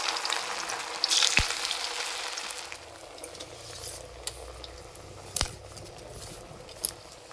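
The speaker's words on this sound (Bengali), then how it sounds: "এগুলো ভাজার জন্য তেল ভালো করে গরম করে নিয়েছি।" Potato and semolina snacks fry in hot oil with a continuous crackling sizzle, louder early on and then settling into a softer steady hiss, punctuated by a few sharp clinks of a utensil.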